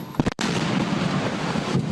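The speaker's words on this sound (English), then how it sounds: "Take a look at the explosion just seconds later." A loud, sustained explosive roar after a freight train collided with a trash truck in Rosedale, Baltimore County, preceded by a couple of sharp bursts and a brief dropout, then a dense rumbling blast that fills the rest of the moment.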